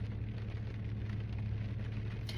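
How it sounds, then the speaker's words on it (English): Heavy rain pouring on a car, a dense steady drumming close by on the roof with a low rumbling undertone, continuous and unbroken with no voices. "it's such a pain in the ass to live in the car when it's raining like this"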